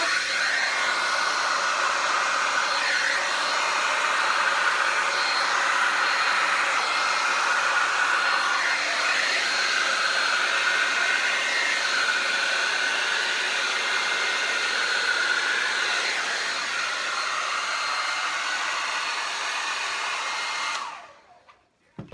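A large hair dryer blows steadily on acrylic paint during a Dutch pour, a constant loud whooshing roar that runs for about twenty seconds before it switches off.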